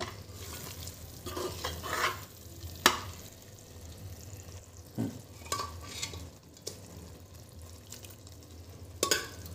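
Mixed vegetables sizzle gently in a pan before mutton keema is added, while a spoon stirs and scrapes, with occasional clinks of a utensil against the metal.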